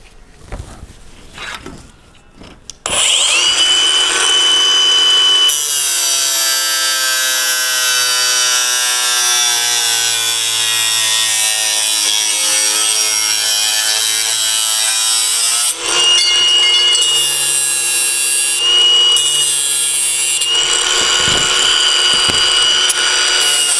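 A cutting tool whines steadily as it cuts metal brackets off a 1955-59 Chevy/GMC truck side window glass, loud and close, with a pitch that shifts as the load changes and brief pauses between passes.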